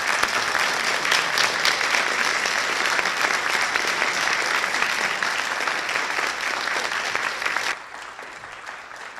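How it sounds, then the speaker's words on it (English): An audience applauds steadily and loudly after a Christianity debate, a dense wash of clapping filling the hall for most of the stretch before dropping off sharply near the end. "This would be a great time to give you applause"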